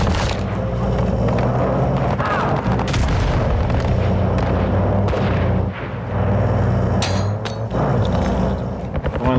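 Gunfire in the video game DMZ, loud booming shots and heavy blasts piling up densely over a continuous rumbling battle din, with no clear pauses.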